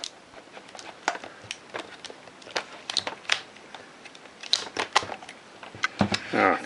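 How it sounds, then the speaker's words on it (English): Nikkormat FTN film camera with the lens removed, its shutter fired repeatedly while stepping down through the speeds from 1/1000th: a series of sharp, close mechanical clicks at irregular intervals, each with a brief snap and clatter. "let's run the shutter a few times"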